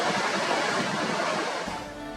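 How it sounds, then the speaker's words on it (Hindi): Loud, continuous rushing of the Panjkora River in Kumrat Valley, Pakistan, a dense roaring wash close by with no voices. "दरियाए पंचकूड़ा की शोर करती लहरें"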